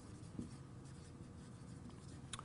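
Faint squeaky strokes of a marker writing on a board, quiet and continuous under a low room hum.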